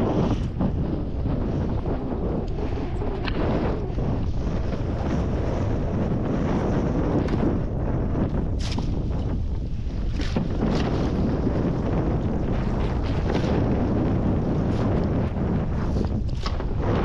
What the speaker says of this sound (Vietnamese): Kinh khủng gió luôn.